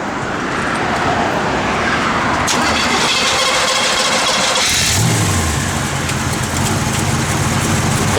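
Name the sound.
classic car engine starting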